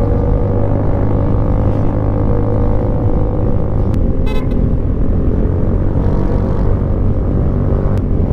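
Heavy roadway traffic with many motorcycles passing, a constant loud engine drone and wind roar from a moving rider's position, broken by brief horn toots.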